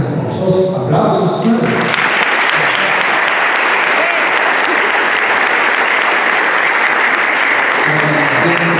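Wedding guests at a religious ceremony in Huaraz break into loud, sustained applause for the newlyweds, dense clapping filling the hall after a brief moment of speech at the start.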